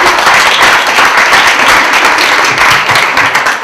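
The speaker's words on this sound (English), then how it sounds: "I want to give all of you a big, huge round of applause" Loud, sustained applause from a community event audience, dense clapping and cheering close up and continuous with no speech.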